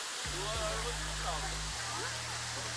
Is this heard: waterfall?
yes